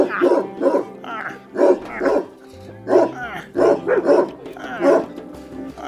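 Shepherd dog puppies, the newest litter at a cheetah conservation farm in Namibia, bark and yip in repeated bursts close by. The barking stays loud and lively throughout.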